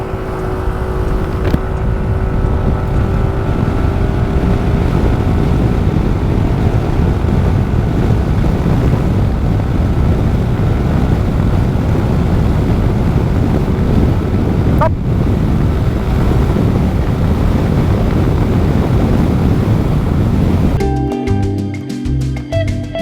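A SYM ADX 125 scooter accelerates hard from standstill toward 100 kph, its engine droning steadily and loudly beneath heavy wind rush on the microphone, the roar cutting off abruptly near the end.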